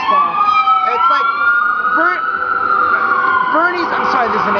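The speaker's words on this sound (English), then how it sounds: "there's an ambulance going by" Ambulance siren passing outside in Columbus, a loud, close wailing tone rising and falling in long sweeps, with someone talking over it throughout.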